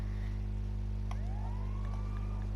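A police car siren rises and wails in a GTA video game, faint against a loud, constant low engine hum, with a sharp click just before it starts.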